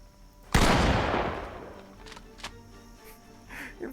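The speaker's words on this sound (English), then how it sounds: "This is some John Wick shit with a single shot shotgun" A single-shot shotgun fires once in the Project Zomboid video game, a loud close blast that rings out and decays over about a second. Fainter clicks and clatter follow, likely reloading.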